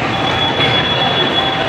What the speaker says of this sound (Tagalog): Guys, sakay tayo ng MRT.